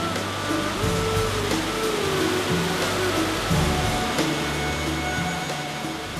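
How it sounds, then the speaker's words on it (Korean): The Huangguoshu waterfalls on the Baishui River rush in a loud, unbroken roar of churning water, steady throughout with no voices. "장쾌한 물줄기가 황거수 폭포군의 끝을 향해 달려갑니다"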